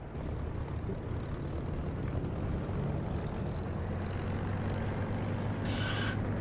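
A P-47 propeller fighter makes a flyby in a flight simulator game, a continuous droning engine roar at moderate distance holding steady for several seconds, with no talk.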